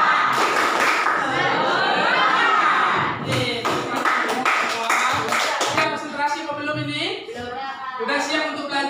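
A primary school class performs a rhythmic 'tepuk semangat' clapping chant, sharp patterned claps mixed with children's chanting voices and a teacher leading along.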